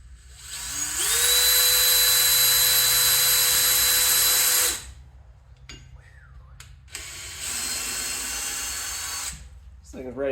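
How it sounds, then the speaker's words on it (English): A Harbor Freight power drill pre-drills a hole, whining loudly at a steady high speed for several seconds, stopping, then running again after a brief pause with a few clicks and handling noises in between. "Got to pre-drill the hole first."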